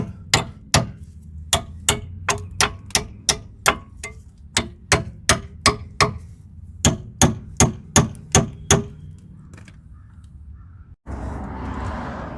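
A hammer taps a brake caliper bolt on a GMC Yukon or Chevy-type truck to break the nut free. The blows are sharp, evenly spaced and close, about twenty in a row, then stop and give way to a rushing noise.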